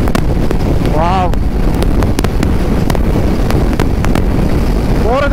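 A 2023 Kawasaki Versys 650 adventure motorcycle cruising in fifth gear, with steady engine drone buried under heavy wind buffeting on the microphone and a rider talking over it.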